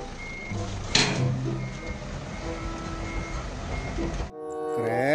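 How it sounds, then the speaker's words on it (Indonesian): A toy forklift gives out a run of evenly spaced electronic reversing beeps, loud and close. The beeping cuts off near the end and a different electronic sound takes over. "Forklift."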